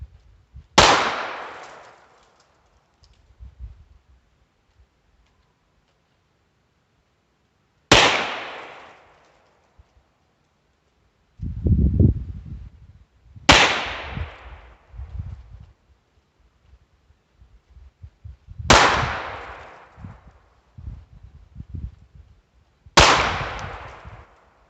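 A Heritage Barkeep revolver firing Federal Auto Match ammunition, five sharp, loud shots spaced several seconds apart outdoors, each followed by a short echoing decay, with faint handling sounds between shots.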